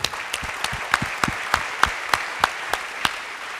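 Audience clapping at a digital innovation awards evening, sparse and distinct with individual sharp claps landing in an irregular rhythm, fairly close and moderately loud.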